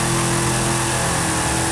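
Large-displacement drift car in Forza Horizon 5 holds a steady, droning engine note, brief and fairly loud, with broad rushing noise around it.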